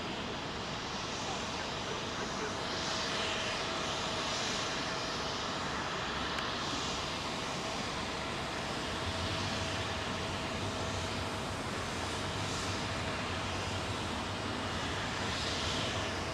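A Boeing 777 jet departs from runway 27L at London Heathrow, its engines producing a sustained, broad roar that holds loud and steady for the whole stretch.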